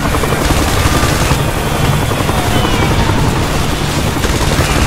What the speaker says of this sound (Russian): Какой классный вертолетик. Как он шпарит там.